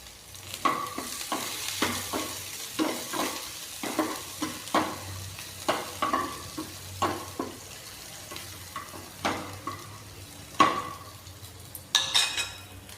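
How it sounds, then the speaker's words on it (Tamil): Onions and a single dried red chilli stirred into hot oil with popped mustard seeds, sizzling steadily with repeated scraping stirs of a spoon against the pan, close and fairly loud, no voices. "பாருங்கள் கடுகு பொரிஞ்சிருச்சு. நம்ம வெங்காயம் சேர்த்துக்கலாங்க. ஃப்ளேவருக்கு வேண்டி ஒரே ஒரு வரமிளகாய் சேர்த்துக்கலாங்க."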